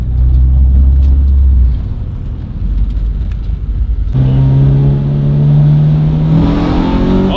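A 90s Honda B-series VTEC engine pulls hard under acceleration, its note climbing steadily and loudly after a rougher low-rev stretch, heard close with no talk over it.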